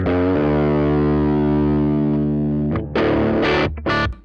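Distorted electric guitar played through a Peavey Studio Pro 50 1x12 amp, ringing out loud and sustained with a buzzing, saturated tone, then ending in a few sharp, choppy strums.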